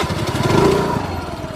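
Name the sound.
motor scooter engine running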